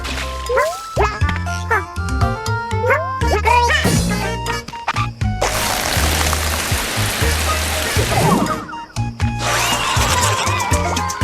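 Splashing, gushing water from a wash squash in a Yoshi video game, bursts of rushing spray between bouncy game music and sound effects.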